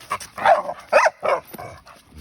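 A bulldog barks and yips in a few short, sharp bursts, close and fairly loud, with small whimpering sounds between them.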